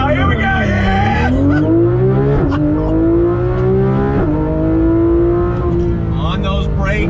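A Porsche 911 GT3 RS launches hard from a dead stop, its engine screaming up through the revs in loud rising sweeps broken by quick gear changes, with an excited voice shouting over it.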